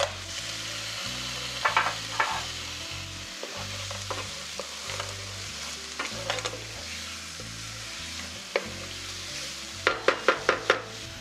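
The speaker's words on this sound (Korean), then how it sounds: "마늘과 양파가 볶아지면 해물을 넣고 볶아주세요." Seafood stir-fried in a pan with garlic and onion for a tomato-sauce seafood spaghetti gives a steady close sizzle, broken by scraping and clattering utensil strikes and a quick burst of sharp clicks near the end.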